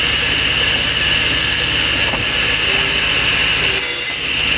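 A saw cutting off the end of a wooden baseball bat in a workshop, a loud steady rasping whine that holds for several seconds and then briefly dips as the cut finishes.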